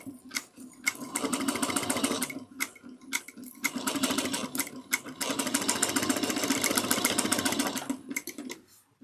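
A sewing machine running in bursts while sewing a bag, with its rapid needle stitching broken by short pauses and back-and-forth back stitching, close and fairly loud with no voices.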